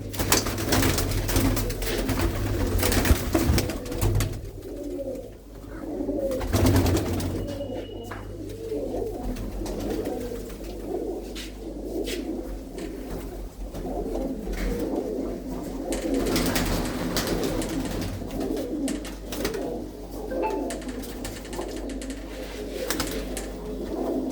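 Pigeons of several colours coo together in a loft, a steady overlapping murmur of soft throaty calls with occasional wing flutters and bumps, fairly close and continuous throughout.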